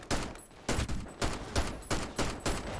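Gunfire in a first-person shooter game, six evenly spaced loud sharp shots in rhythmic succession, each with a short decaying tail.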